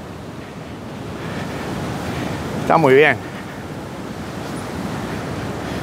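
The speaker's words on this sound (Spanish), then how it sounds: "Ya tan solo escuchar el ruido del océano" Ocean surf rolls in a steady, broad wash mixed with wind buffeting the microphone, and a person speaks briefly in the middle.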